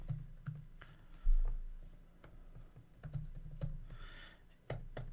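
Keys clack on a computer keyboard in quiet, irregular bursts, with single taps and short runs of close, crisp keystrokes and one heavier thump amid the typing.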